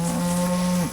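A single cow or steer at a Carter Cattle Company steer sale in Pensacola, Alabama lets out one long, loud, steady moo that lasts nearly a second and then drops off, with no talk over it.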